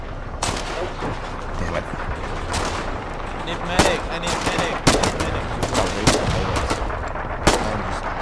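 Rifle and machine gun fire in the war game Foxhole, a dense, continuous clatter of shots with sharp louder bursts standing out, while a voice mutters briefly amid the battle.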